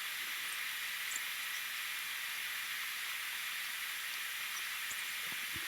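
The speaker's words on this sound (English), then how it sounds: "not let you hear some bacon sizzle" Steady, even sizzle of bacon frying in a pan, a continuous hissing crackle with occasional faint pops and no voices.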